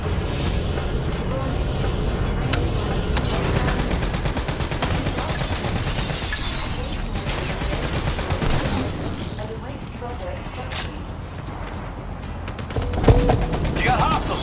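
Black Ops 3 video game combat with dense, rapid bursts of automatic gunfire and occasional heavier booms, sustained throughout under a talking voice.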